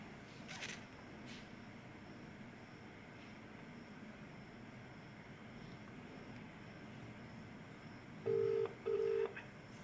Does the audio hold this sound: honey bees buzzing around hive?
no